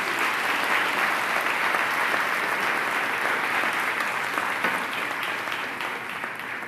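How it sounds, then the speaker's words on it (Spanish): A church congregation claps together in a broad, sustained burst of applause during a Sunday service, even and continuous throughout with no voices rising above it. "Dale un gran aplauso al Señor"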